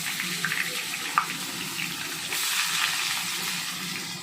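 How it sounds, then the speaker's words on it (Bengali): Onions sizzle in hot oil in a kitchen pan while a chicken methi curry is being cooked, giving a steady, close hiss and crackle that turns slightly louder partway through, with no voices. "আমি তেলটা গরম করে আমি পেঁয়াজটা ভাজতে দিয়ে দিচ্ছি।"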